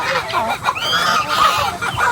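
Male turkeys on a farm call out in loud, close gobbling and clucking bursts, several birds overlapping in quick irregular runs with no talk over them.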